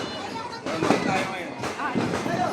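A 1,000-round sawa firecracker string set off for New Year, a dense crackling burst building across the span while voices talk over it.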